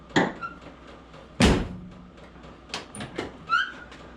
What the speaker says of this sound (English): Doors nice and firm to shut.